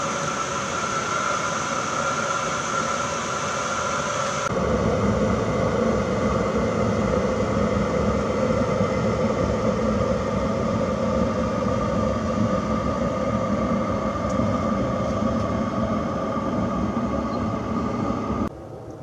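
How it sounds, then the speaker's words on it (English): A diesel heater runs with a steady, unbroken roaring hum after an E-08 error fix. It fills the whole stretch at an even level with no talking. "the diesel heater is up and running. It's been running for a little while now."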